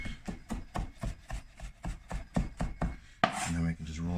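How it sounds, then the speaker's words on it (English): Knife rocking back and forth to chop cilantro on a cutting board, about a dozen crisp evenly spaced thuds, followed by a brief louder scrape at the end. "you're just going to rock your knife back and forth and chop"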